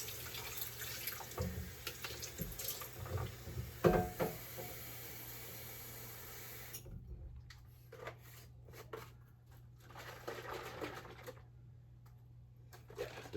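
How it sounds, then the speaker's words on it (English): Tap water running into a bottle of drink concentrate to top it up, a close, steady splashing stream that cuts off partway, followed by quieter handling clinks and small knocks. "And then the rest up with water."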